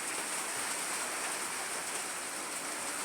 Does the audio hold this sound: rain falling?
yes